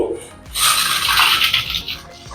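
Ravva laddu mixture of semolina is poured onto a plate, making a close, steady granular hiss and rustle that lasts about two seconds after a brief quiet start.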